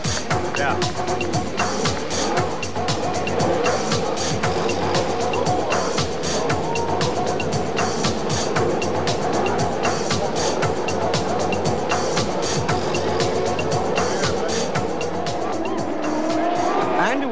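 Indycar race cars roaring off at the 1993 race start, a dense continuous wall of engine noise with tire squeal, loud and close throughout.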